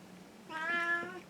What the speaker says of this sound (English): Hear the cat?